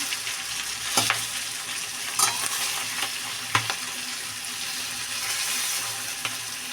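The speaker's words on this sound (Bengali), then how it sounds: "মশলাটা এবার একটু ওই সাইডটা ভেজে নেবো আস্তে আস্তে ভাজলে কি হয় জানো" Prawn heads with shells on frying slowly in spice paste, a steady close sizzle broken by a few sharp stirring scrapes and clinks, with no voices.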